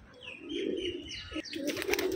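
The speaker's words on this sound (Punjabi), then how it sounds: "ਇਹ ਵੇਖੋ ਪੈਰਾਮੋਸ ਕਬੂਤਰ ਵਾਈਟ" A white Paramos pigeon gives soft, low cooing calls close by, with a brief flutter-like rustle partway through and no talking.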